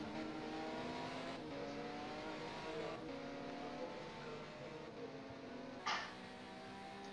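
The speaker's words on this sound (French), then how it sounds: "nous allons nous mettre dans sa caméra, dans son cockpit pour écouter le bruit de cette merveilleuse Mercedes" In-cockpit engine note of a Mercedes WTCC touring car on a qualifying lap at Hockenheim, a sustained droning roar that rises and falls through gear changes, with a brief sharp burst near the end.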